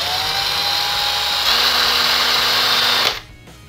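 A cordless impact drill whirs at a steady moderate speed for about three seconds with its trigger lightly pressed for low speed, its motor pitch shifting slightly before it shuts off.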